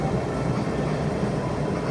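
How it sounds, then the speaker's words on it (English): An MTR Q train pulls into Tai Koo Station at rush hour, a loud continuous low rumble and rolling rail roar that stays steady and close, with no voices over it. "Yes it is, Q train coming in."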